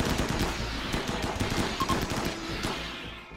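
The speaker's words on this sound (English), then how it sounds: "why is not everyone shooting Mac" Rapid bursts of gunfire in the colony-building game RimWorld, a dense fusillade of overlapping machine-gun-like shots that stays loud and continuous throughout, with no voices.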